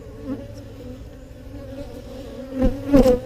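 Honey bees buzz steadily at an open hive during a beginner beekeeping session in Texas, a low continuous drone that swells louder near the end as the insects move close.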